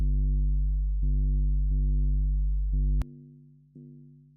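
A distorted sub sweetener without bandpass EQ: a loud, thick, buzzing low tone sustains in long held notes with a few sharp retriggers and a brief click, no voices.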